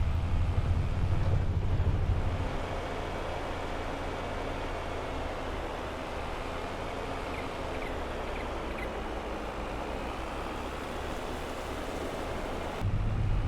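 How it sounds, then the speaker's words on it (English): A farm vehicle engine in Farming Simulator 22 runs at a steady idle, a constant low rumble with a broad hiss, shifting slightly after the first couple of seconds and continuing alone without talk. "I'll just get the engine up and running"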